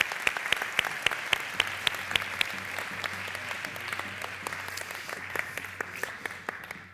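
A crowd applauds with brisk, steady clapping at a traditional dress festival in Zamora, Spain, loud and close at first, then gradually thinning and fading toward the end.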